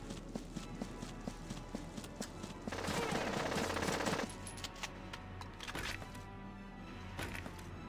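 A machine gunner in Valkyria Chronicles fires a dense, rapid burst lasting over a second, loud above a busy backdrop of game music, thuds and scattered effects.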